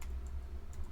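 Typing on a computer keyboard while entering a web address, faint soft clicks under a steady low hum, with no voices.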